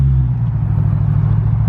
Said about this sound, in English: He just got a Gintani exhaust.